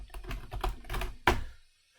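Rapid keystrokes on a computer keyboard while entering personal details into a CV, a close run of clicks ending in one sharper key tap and then quiet.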